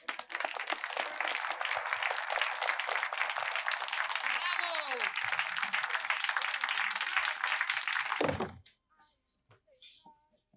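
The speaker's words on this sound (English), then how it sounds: "The full restaurant, everyone clapping to the emptiness of Vesuvio's." A full restaurant crowd in a TV show scene claps steadily and loudly for about eight seconds, then the applause cuts off abruptly to near silence.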